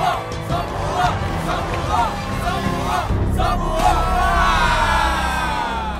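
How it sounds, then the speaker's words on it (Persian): A video game crowd of fans in Minecraft cheers and yells for a player from Samoa before a crucial shot, a roaring burst of whoops and shouts building and swelling over several seconds. "طرفدارا همه دارن تشویقش میکنن"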